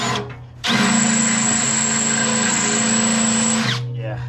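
A power drill with an oiled bit bores through a steel excavator tooth bar, a loud steady whine running for about three seconds before it winds down, close and alone.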